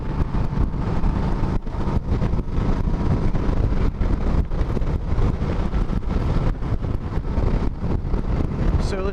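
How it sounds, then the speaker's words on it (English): Strong gusting wind roars over a Yamaha V-Star 1300 Deluxe cruiser motorcycle with a fairing, ridden at almost 80 on a blustery day, a steady heavy rumble of buffeting with no speech. "as windy as it is today, this fairing is not doing anything whatsoever"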